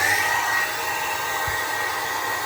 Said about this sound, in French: Je vais brancher le sèche-cheveux.